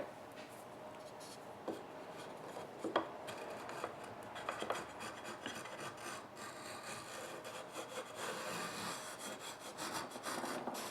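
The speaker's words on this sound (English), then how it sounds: "do a little cleanup with the chisel." A chisel scrapes and pares along a wooden frame strip for beehive frames, a rapid series of rasping strokes and small knocks, close and continuous, with no voices.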